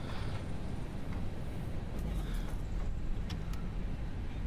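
Jet engine reverse thrust on an easyJet Airbus A320-214 after touchdown in the Prepar3D V4.1 simulator, a loud, steady, dense low roar that holds throughout with no speech over it.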